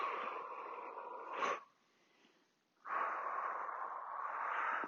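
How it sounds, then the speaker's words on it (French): Two long, strong exhales of breath during a yoga hip stretch, each sustained and close, separated by a short quiet pause with a brief sharp puff between them. "Soufflez quand vous poussez."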